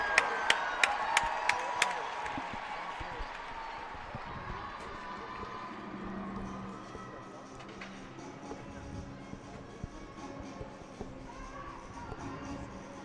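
A large arena crowd roars at the artistic gymnastics world championships, a broad far-off swell of cheering and whoops after a few sharp rhythmic beeps, with a commentator talking over it.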